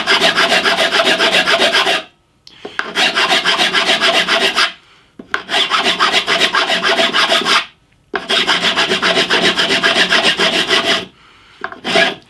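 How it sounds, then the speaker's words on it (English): Steel file rasping across a guitar fret, heard as four long, loud stretches of repeated back-and-forth strokes separated by short pauses, with no talking. "So I've got my file and just file that off."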